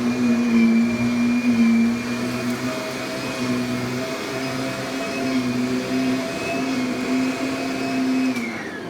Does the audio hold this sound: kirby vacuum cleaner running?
yes